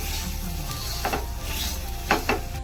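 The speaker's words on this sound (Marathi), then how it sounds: "खजूरची पेस्ट तुपावर परतून घेऊया" Date paste sautéed in ghee, a soft continuous sizzle under a few rubbing, scraping strokes of a spoon stirring the sticky paste in the pan.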